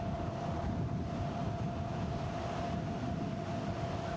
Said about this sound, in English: All of a sudden the wind is blowing like crazy.